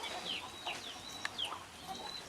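Male pet bird from a blood-red breeding pair calling, several short, bright chirps and whistled notes repeated close by in a quiet room.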